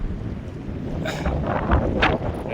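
Strong wind buffeting the microphone in a constant rumbling roar, with gusts swelling over the steady noise and no voices.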